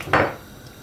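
Canned chickpeas tipped into a cooking pot of couscous stew, one short splashy clatter near the start, then near silence.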